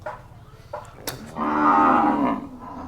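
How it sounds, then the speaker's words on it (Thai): Cattle at a livestock market in Wang Prachop, Tak, give one loud, sustained moo lasting about a second, rising out of steady crowd and market background noise. "เป็นวัวของทีมงานม่วง"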